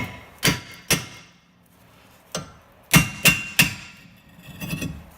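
Sharp metallic hammer blows strike a rusted wheel hub on a 2011 Chevy Impala in an uneven sequence, two early hits, a pause, then a quick cluster of heavy clanging impacts, close and loud.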